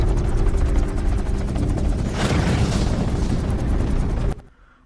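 Bombs dropped by bomber planes explode in a zombie action film, a dense continuous roaring rumble of blasts and fire that holds loud for over four seconds, then cuts off abruptly into near silence.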